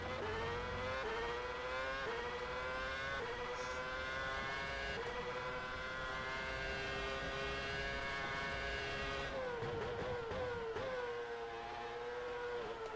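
Red Bull F1 car from the 2013 mod in rFactor 2, its engine screaming at high revs with sharp gear changes and brief dips on braking, loud and continuous throughout.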